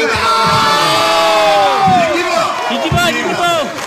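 Election rally crowd at Dudhnoi roaring, cheering and clapping loudly, with shouts and whoops rising and falling in dense overlapping waves close to the microphone.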